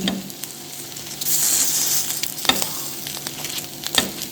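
Sardines sizzle in hot ghee, wrapped in banana leaf, a bright crackling hiss that swells and fades, with occasional clinks and scrapes of stirring.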